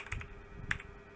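Quick bursts of typing on a computer keyboard while a Bash script function is written, a few soft close clicks and taps over a quiet room.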